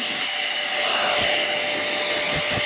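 A blower hair dryer runs steadily throughout while drying hair after a L'Oréal rebonding treatment, giving a loud, continuous broadband whoosh with a faint tonal whine and no talking.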